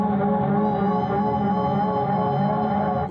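A bass guitar produces a pulsating, arpeggiator-like sound, a dense, continuous, droning texture with steady low tones and a shimmering upper layer, loud and unbroken, with no talking.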